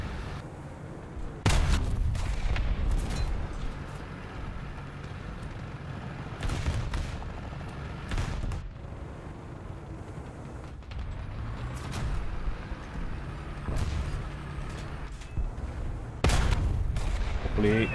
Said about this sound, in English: I don't know who's the guy shooting at me